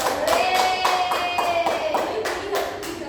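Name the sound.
class clapping hands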